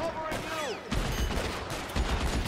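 Gunshots in the video game L.A. Noire, a burst of loud rapid gunfire with booming low-end impacts alongside game speech and sound effects.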